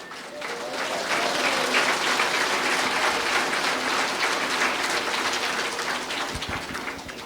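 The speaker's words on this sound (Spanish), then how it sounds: "Fuerte aplausos" Sustained applause from a crowd, a dense steady clatter of many hands clapping that swells and holds, fading slightly toward the end.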